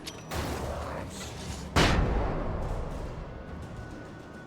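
Two sharp flashbang blasts in Alan Wake, the second louder and closer, each followed by a long hissing, ringing decay.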